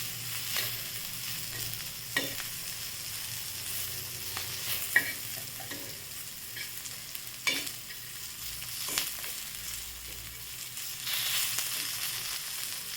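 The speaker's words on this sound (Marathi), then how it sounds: "तर ही अशी फिश फ्राय करून घ्यायची छान. बारीक गॅसवर घ्यायची करून." Fish slowly frying in a pan over a low flame: a steady, quiet sizzle with scattered pops and crackles, and a few clicks and scrapes from the pan.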